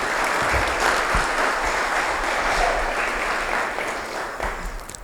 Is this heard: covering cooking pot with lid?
no